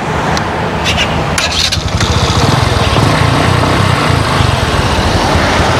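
A Bajaj Boxer 150 motorcycle engine catches and settles into a steady, loud idle with a dense low rumble, running close by for the whole stretch.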